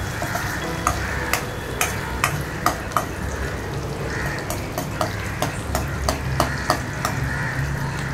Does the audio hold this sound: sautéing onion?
yes